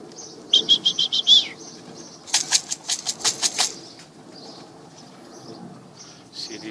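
Tippler pigeons burst into flight with a quick run of loud wing flaps, close by, preceded by a short chirping call and followed by quieter outdoor ambience.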